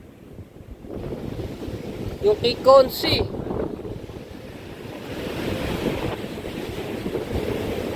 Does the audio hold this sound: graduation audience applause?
no